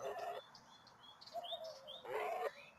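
A pet bird gives short, bright chirps and tweets with brief pauses between them, fairly faint against a quiet room.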